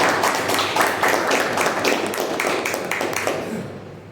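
A single person applauding after a panel talk at a book fair, a quick run of crisp claps in a steady rhythm that fade out near the end.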